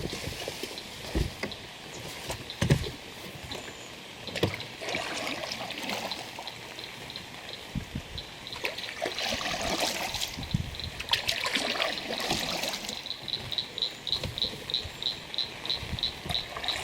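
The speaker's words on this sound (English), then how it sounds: "Kayak paddle works excellent out here" Kayak paddle strokes dip and swish at a steady pace on a rainy lake in a national forest, with soft water trickles and drips over a constant background of chirping crickets and insects.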